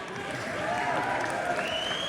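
A large crowd at a Conservative rally in Portage-Lisgar, applauding and cheering steadily at a moderate distance, the noise holding even for a couple of seconds with a faint voice rising through it.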